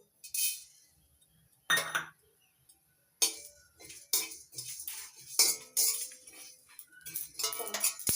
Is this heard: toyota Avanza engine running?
no